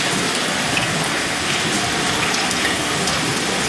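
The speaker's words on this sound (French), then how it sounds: "si j'avais voulu rajouter de la pluie" AI-generated rain sound effect made in Filmora 14, a dense, steady hiss of falling rain on a surface, loud and unbroken, with no talk.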